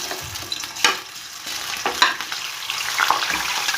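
Chicken pieces sizzling and frying in hot oil in a home kitchen pan for chicken aloo salan, a steady close hiss with a few sharp crackles and stirring clatters, no talking.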